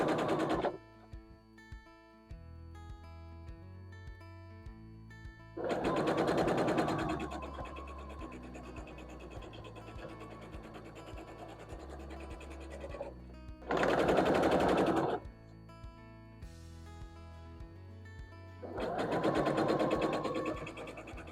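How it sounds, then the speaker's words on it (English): A sewing machine stitching pieces of a quilted mushroom block, with three loud, steady whirring runs of rapid stitching separated by quieter pauses full of faint handling noises. "we're going to be sewing these pieces right over the top of these"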